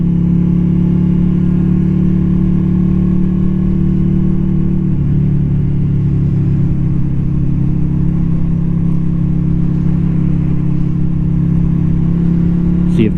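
Yamaha V Star 250 motorcycle accelerating on an Ontario highway, a steady droning engine hum that holds loud and continuous throughout, with heavy wind and road roar underneath.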